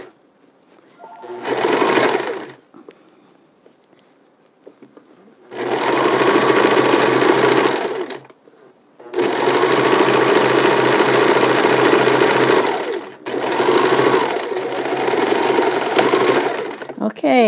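A sewing machine stitches a zigzag around a mitten made from a wool sweater, running in four loud, close bursts of steady whirring split by short pauses, with faint talk in the gaps.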